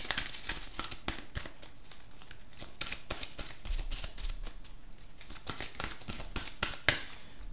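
Tarot cards are shuffled and drawn close up, giving a steady run of crisp riffling, flicking and snapping card sounds with sharp individual slaps, and no talking.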